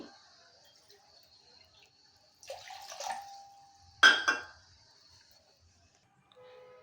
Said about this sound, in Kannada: 2 ಲೋಟ ನೀರು ಹಾಕ್ತೀನಿ